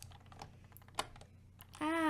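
Soft, quick keystrokes on a computer keyboard while coding, a scattered run of light clicks heard fairly close and quiet, ending as a voice begins.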